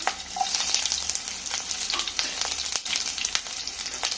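Onions go into hot oil and fry with a crackling sizzle, stirred now and then, with a scraping stir around the middle. The sound is fairly close and continuous, and nobody speaks.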